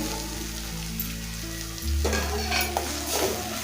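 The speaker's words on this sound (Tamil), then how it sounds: "வெங்காயம் தக்காளி நல்லா வதங்கிருச்சு மசாலா பொருள்லாம் சேர்த்துக்குவோம்" Onion and tomato sautéing in a pan as masala spices are added, a close sizzle that swells louder partway through as the pan is stirred, with a few light clinks.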